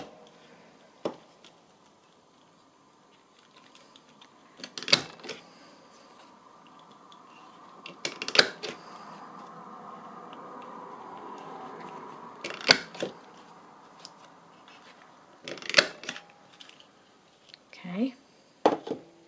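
A corner rounder punches the corners of a card for an altered index journal card, giving about five sharp, separate clicks spaced several seconds apart in a quiet room, with soft handling noise between.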